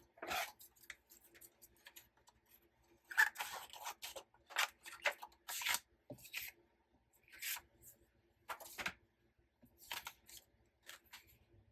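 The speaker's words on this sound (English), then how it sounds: "I'm just going to cut that down a little" Card paper for a handmade card is snipped into a smaller piece in a quiet room, a series of short, crisp cutting and rustling bursts spaced irregularly over several seconds, fairly close, with no talking.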